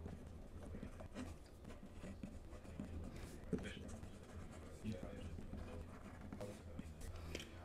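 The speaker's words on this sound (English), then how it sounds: "I want to test out this fountain pen on some Tomoe River paper." A Franklin-Christoph fountain pen with a SIG nib writes on Tomoe River paper, giving soft, close scratching strokes in short irregular bursts over a quiet background.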